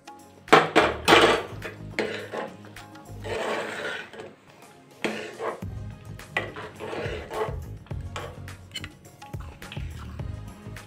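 A ground paste of roasted cashews, almonds and cardamom goes into carrot halwa in a pan, giving close, irregular scraping and stirring, a few clinks of a spoon and brief bursts of sizzle.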